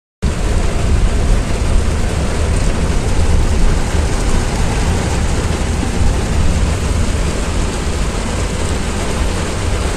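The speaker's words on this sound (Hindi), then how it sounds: "लेकिन एक प्रॉब्लम हो गई है कि बारिश बहुत तेज़ हो गई है" Heavy rain pours down steadily and loudly outside a house during a rainy wedding visit, a dense continuous roar with no break and no voices.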